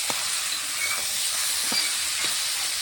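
Taro pieces tipped into a hot pan of oil while cooking a Bengali mutton curry with spicy taro, giving a steady, moderately loud hiss and sizzle throughout with a few soft clinks on top.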